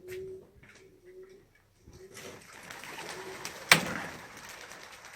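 Young homing pigeons softly cooing in a loft, faint low coos in the first seconds followed by rustling and general bird activity with a brief sharp clatter near the end.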